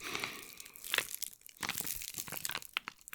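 Crinkly plastic or packaging is crumpled and torn close to the microphone in a quiet ASMR setting, making a run of crisp, uneven crackling bursts with short pauses between them and no talking.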